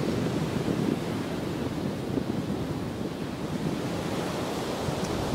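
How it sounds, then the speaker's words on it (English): Strong wind buffets the microphone on a beach at Padre Island National Seashore, Texas, with constant roaring gusts blended into the hiss of surf, steady and loud throughout. "Strong wind."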